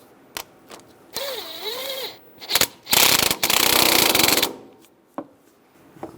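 Tightening a bolt on the lower intermediate steering shaft of a 1999-2006 Chevrolet Silverado, with quick bursts of ratchet clicking and whirring between short clinks and pauses, close up.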